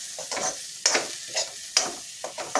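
Drumsticks stirred and fried in masala in a pan, a spoon scraping in several distinct strokes over a soft sizzle, close and fairly loud with no talking.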